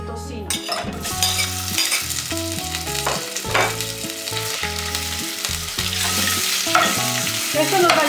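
Bacon frying in hot oil for a chickpea and nopal stew, a steady loud sizzle with occasional stirring and clinks of a utensil against the pan, alone without voices.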